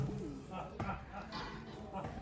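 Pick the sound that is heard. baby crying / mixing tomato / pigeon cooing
pigeon cooing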